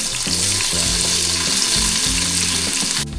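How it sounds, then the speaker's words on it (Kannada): Onions fry in hot oil for chicken biryani, a loud continuous sizzle with low bubbling underneath and a brief clatter at the very end. "ಇವಾಗ ಆನಿಯನ್ನ ಚೆನ್ನಾಗಿ ಗೋಲ್ಡನ್ ಬ್ರೌನ್ ಆಗೋವರೆಗೂ ಫ್ರೈ ಮಾಡಬೇಕು"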